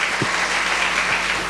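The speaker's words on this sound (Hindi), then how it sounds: "हम ताली बजा के परमेश्वर को धन्यवाद दें।" A church congregation at a Sunday service claps together, a steady dense applause that fills the space, loud and continuous with no talk over it.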